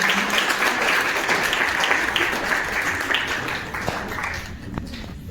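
Audience applause in a college hall during an honour ceremony for the principal, Dr. Binod Kumar Singh, steady dense clapping from many hands throughout, thinning slightly near the end.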